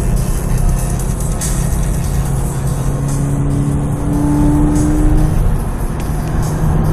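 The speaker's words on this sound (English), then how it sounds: "The sound of the engine is great." A Subaru BRZ engine revs up past 5,000 RPM inside the moving car, a loud, steady roar with a tone that climbs and strains over road and wind noise.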